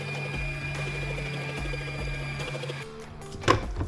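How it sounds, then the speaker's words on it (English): A stand mixer running steadily as it combines all-purpose flour and salt, a whirring mechanical hum with a knocking rhythm that falters near the end before a sharp clack. "Let the mixer run until everything's thoroughly combined."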